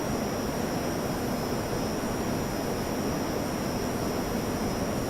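A Canberra jet aircraft flies in a flight simulator game, its engines producing a steady, unbroken roar that stays loud and even throughout, with no voices.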